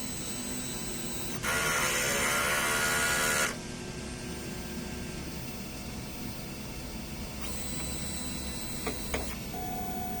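A DTF printer runs a head cleaning cycle, whirring and humming steadily, with a louder mechanical burst of motor noise early on and brief clicks near the end.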